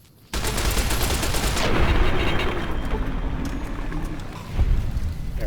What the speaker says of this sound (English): Use Ricky's machine gun on him.